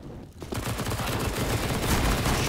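Dense video-game gunfire rattles almost continuously after a short quiet opening, overlapping bursts of shots that stay loud and close throughout with no talk.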